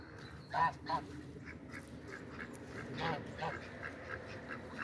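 A few short honks from geese and ducks stand out over soft background chatter, moderately close and spaced irregularly.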